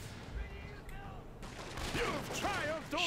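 A ragged volley of musket fire pops and cracks across a Shogun 2 Total War: Fall of the Samurai battle, repeated shots at mid distance mixed with shouting voices.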